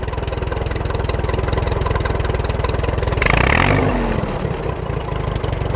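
An old tractor engine idles low after a cold start, a steady, close, loud mechanical chug that briefly swells and clatters partway through before settling back into its even rhythm.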